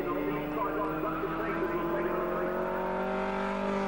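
A pre-1966 Formula 1 racing car runs at Silverstone during a historic race, its steady, loud engine note holding close for several seconds with the pitch rising slightly as it passes.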